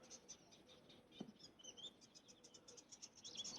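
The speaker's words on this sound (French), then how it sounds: "Les oiseaux, comme vous entendez" Faint high chirps and tweets repeat through a quiet outdoor background, small birds calling at a distance with no talking.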